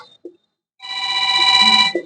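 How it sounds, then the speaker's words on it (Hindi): Telephone ringing indoors during a lesson, a loud, steady electronic ring lasting about a second, following a brief voice fragment. "किनका टेलीफोन आ गया भाई?"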